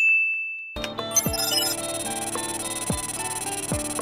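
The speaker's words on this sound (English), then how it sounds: "Files popping up sound effect helps us to know that files are popping up." Anime sound effect of computer files popping up on screen in Death Note, a brief tone followed by a bright chime and a rapid series of sharp digital blips and pings over an electronic hum.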